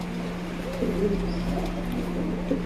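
Pigeons in a loft with a female sitting on eggs; soft cooing calls and faint bird sounds over a constant electrical hum, close and low in level.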